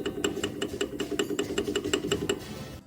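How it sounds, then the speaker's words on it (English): A car engine with a ticking fault runs at idle, giving off a fast, regular tick several times per second over a low, steady hum, heard fairly close. "ticking noise coming from the engine"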